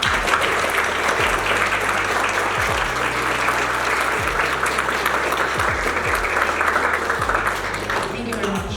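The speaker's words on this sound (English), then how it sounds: "give a round of applause to people who made this day possible" Sustained audience applause fills a graduation ceremony at an academy, steady dense clapping throughout with a low hum underneath, moderately loud and continuous for the whole stretch.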